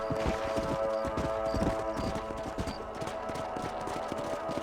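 Rapid horse hoofbeats from a video game, Red Dead Redemption, clatter in a steady galloping rhythm over a dense layer of background music, with a faint whinny-like tone in the mix.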